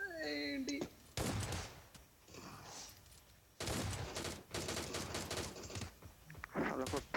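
Rapid automatic gunfire from a PUBG-style battle royale match, loud bursts of shots repeating through most of the stretch, with players talking over the firing between volleys.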